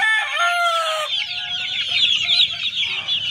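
Pure SBR Mount Banahaw line gamefowl roosters and chickens: a close rooster crow opens, then breaks into a string of clucks and squawks.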